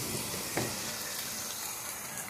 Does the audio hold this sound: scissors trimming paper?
no